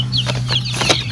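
Black Australorp hens cluck in a short close burst of several clucks over a steady low background hum.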